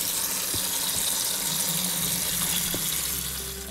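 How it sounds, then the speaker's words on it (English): Tap water runs steadily through a colander while pasta salad ingredients are rinsed, a continuous close hiss and splash that eases off at the end. "so you can keep running that water through"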